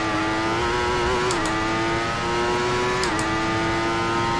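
A 1994 Formula One car engine in Assetto Corsa at the German Grand Prix circuit screams at high, steady revs, dipping twice with brief gear shifts, loud and close throughout with no talk.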